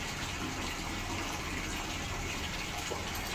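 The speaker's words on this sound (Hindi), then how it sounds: "इतने पानी भर रहा है" Water pours steadily into household containers and vessels at a filling spot, a continuous, fairly loud gushing rush with no talking.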